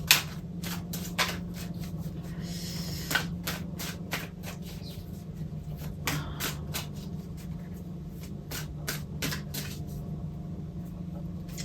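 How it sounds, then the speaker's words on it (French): Tarot cards are shuffled by hand close by, with repeated soft riffling and flicking bursts. The bursts come in irregular clusters over a faint, steady background. "en même temps que je brasse mes cartes"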